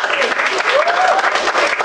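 A comedy show crowd claps loudly for the band in a brief, dense burst of applause, with a voice briefly audible over it.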